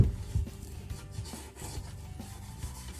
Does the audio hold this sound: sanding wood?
yes